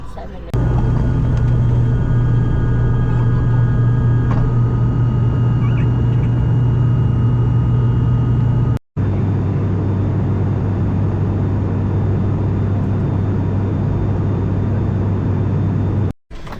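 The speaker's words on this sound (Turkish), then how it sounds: "Evet, pırpır uçağımızdan sağ salim Suva'ya indik." Steady loud cabin drone of an ATR 42 turboprop during landing, with strong low propeller hum and tonal whine filling the whole stretch, briefly cut twice.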